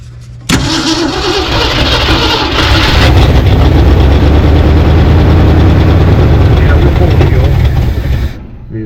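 A 1964 Ford Falcon Sprint engine cranks and catches abruptly, then runs loud and steady close by, the revs swelling slightly before it cuts off near the end.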